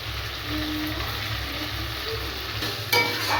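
Desi chicken curry sautéing in a pan, a continuous soft sizzle and bubbling with a faint low hum, ending in a short clatter near the close.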